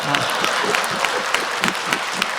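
Audience clapping at a televised talk show, a lively burst of many hands with crisp individual claps, loud and steady throughout, with a voice faintly beneath.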